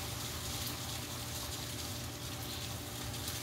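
Water flows down a small test waterfall in a steady, gushing stream, a continuous, even splashing with a low hum underneath and no talking.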